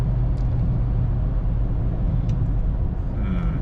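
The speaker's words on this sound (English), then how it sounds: "Quite a lot of drivetrain noise now." Steady low drivetrain drone and road rumble from a BMW with the N54 engine, cruising in fifth gear in sports mode after a six-speed automatic to DCT swap, continuous and fairly loud throughout with no talking.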